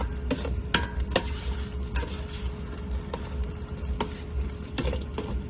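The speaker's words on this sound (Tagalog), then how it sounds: "Tapos, haluin po natin." A spoon stirs menudo in a cooking pot, making scattered sharp ticks and scrapes over a steady low sizzle-like hiss. The clicks come at an irregular pace, and no one speaks.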